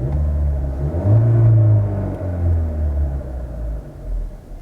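A Cupra Formentor in standard form idles and revs gently, a low steady engine rumble with slight swells in pitch, close and alone without talk.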